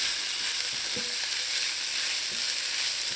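Smoked herring, tomatoes and carrots are mixed together in a pan, giving a steady close sizzling hiss with a couple of soft scrapes of the utensil.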